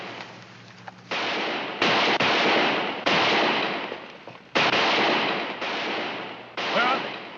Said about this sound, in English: My warriors shoot in air.